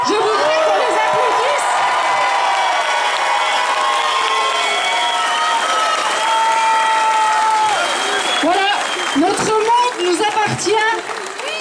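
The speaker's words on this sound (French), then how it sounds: "Je voudrais qu'on les applaudisse." A large crowd at a street protest against the health pass in Besançon breaks into loud, sustained applause mixed with cheers and whoops, filling the air continuously and thinning toward the end.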